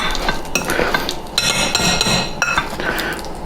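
Utensils stir and scrape through a rice ball mixture in a bowl, making close, continuous clinking and scraping with steady rhythm and no talk.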